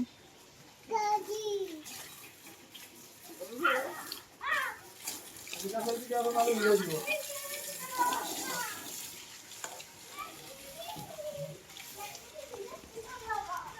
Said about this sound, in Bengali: ও পানি দিবে গাড়িতে।